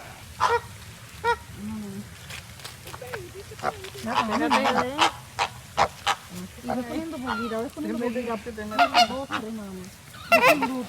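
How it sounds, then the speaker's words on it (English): Flamingos honking while being hand-fed at a Florida attraction, a close, busy chorus of nasal honks and calls in quick repeated bursts with people talking underneath. "Feeding the flamingos."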